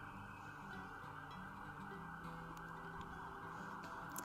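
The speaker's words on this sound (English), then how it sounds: "I don't miss these sirens." A city siren wails steadily throughout the clip over constant New York street noise, holding a bright sustained tone and sounding moderately distant.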